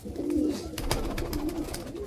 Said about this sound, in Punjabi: ਤੀਜੀ ਕਬੂਤਰੀ ਕੱਢਦੇ ਆ ਆਪਣੀ ਕਾਲੀ ਚੀਨੀ